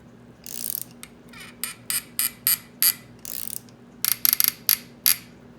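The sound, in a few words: threading cylinder studs on Honda ATC 200x engine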